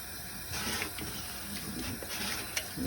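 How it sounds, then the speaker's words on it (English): Water from a tap streams over a paint roller cover being cleaned with a tool, a steady hiss and splash with small surges as the cover is turned under the flow. "You can even hold it under the stream of water."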